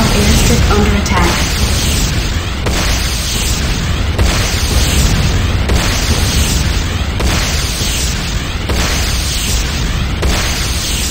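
In the video game Renegade, structures blow up in a run of heavy explosions, with loud repeated booms and rumbling blasts arriving every second or so, while a voice speaks over them.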